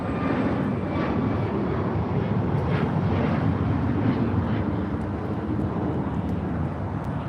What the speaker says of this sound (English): 2377 taking off to Houston Intercontinental on a MAX 9.